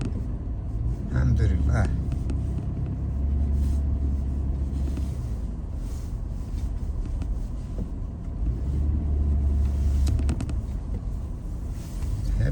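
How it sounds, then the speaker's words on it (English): A car drives slowly through thick, heavy snow during a large Toronto snowstorm, its low engine rumble and crunching tires steady throughout, with wind buffeting the microphone and someone speaking briefly over it. "there's the thick, heavy snow. Driving through it."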